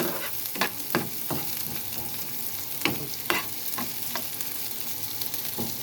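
Sardines and ingredients being sautéed in a pan, cooked until translucent for a sardine stew: a steady sizzling hiss with scattered louder clatters of stirring at irregular intervals, close and moderately quiet, with no voices.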